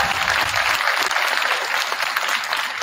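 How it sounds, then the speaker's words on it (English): A short burst of steady audience applause at a school winter band concert, many hands clapping together, loud and continuous for about three seconds. "give them a round of applause"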